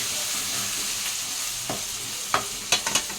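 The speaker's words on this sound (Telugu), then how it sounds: "అల్లం వెల్లుల్లి పేస్ట్ వేసి కొంచెం మిక్స్ చేయాలి. బాగా ఫ్రై చేయాలి." Ginger garlic paste with turmeric fries in hot oil for a fish curry, a constant close sizzle broken near the end by a few sharp scrapes and clacks of a stirring spoon against the pan, with no talking.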